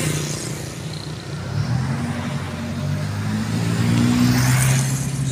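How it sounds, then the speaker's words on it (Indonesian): A single-axle truck rolls past on Jalan Sudirman in Ujung Batu, its engine drone swelling steadily as it nears over continuous road traffic, with no voices. "Oke, engkel melintas."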